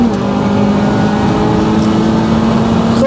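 An Audi Q3 TFSI with 230 bhp and a 200 bhp Honda Civic Type R EP3 launch side by side, a loud steady engine drone holding constant throughout with no pauses.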